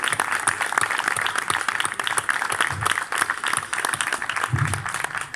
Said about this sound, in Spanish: ese aplauso para vosotros y para vosotras